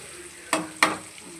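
Onions frying in a home kitchen pan for a nuggekai drumstick curry, a low steady sizzle with two sharp scraping stirs close by.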